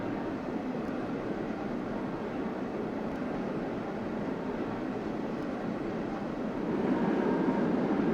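An East Coast Shinkansen bullet train in the Trainz railway game rumbles into a station in a steady, broad roar that swells slightly near the end.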